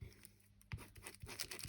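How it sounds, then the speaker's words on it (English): Thin, tea-dyed tissue paper tears by hand in a few quick, close, soft rips with light crinkling, quiet and alone without talk. "I had another scrap bit of tea-dyed tissue paper"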